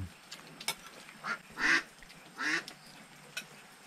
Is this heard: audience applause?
no